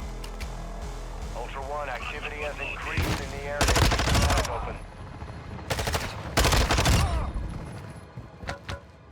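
Rapid automatic gunfire in the Call of Duty DMZ video game, several loud bursts of shots with short gaps and a few single cracks near the end, mixed with game sounds and a voice talking in between.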